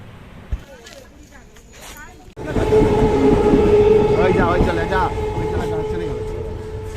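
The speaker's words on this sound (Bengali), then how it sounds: "এই ট্রেন চলে গেল" Quiet at first, then a train suddenly roars past close by, a loud sustained rumble with rhythmic rattling and a tonal hum; a voice speaks briefly.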